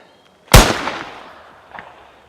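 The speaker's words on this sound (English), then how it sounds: "if you hear in the distance there's gunshots" A single sharp crack bursts out, echoing and fading, followed by a fainter second report a moment later, distant gunshots heard in woodland with no voices.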